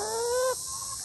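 A chicken gives a single short, close vocal call that rises briefly and then trails off, heard alone.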